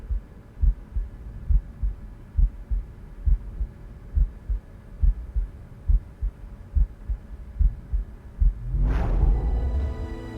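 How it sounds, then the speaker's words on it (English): A slow, heavy heartbeat in the Venetica video game, about a dozen deep, evenly spaced thumps under a low hum, giving way near the end to a swelling rumbling distortion. "Heartbeat."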